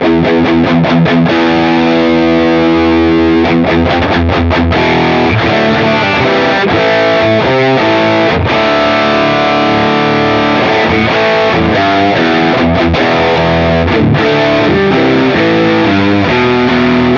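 Heavily distorted electric guitar with a thick, flubby low end, playing continuously at high volume with dense, saturated chords.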